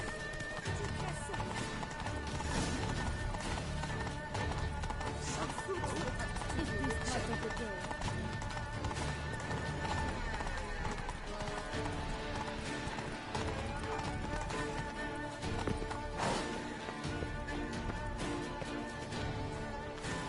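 Hooves clatter at a gallop in The Witcher 3: Blood and Wine under a continuous bed of music and game sounds, with a brief whinny and voices speaking over the action.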